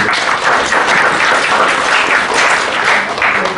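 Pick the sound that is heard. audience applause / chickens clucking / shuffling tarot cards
audience applause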